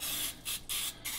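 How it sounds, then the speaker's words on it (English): Butter spray hissing from a can onto food before it goes into the oven, three long bursts with short pauses between, close and steady, no talking. "I'm gonna spray them with my butter pan"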